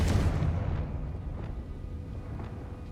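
A Confringo spell blast in the video game Hogwarts Legacy: a loud booming explosion at the start that fades into a rumbling tail with faint crackles.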